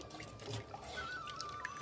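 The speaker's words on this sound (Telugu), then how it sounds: "రెండు గ్లాసులు నీళ్లు పోసుకున్నాను" Water is poured from a glass into a ragi flour and jaggery batter, a faint soft trickle in a quiet kitchen.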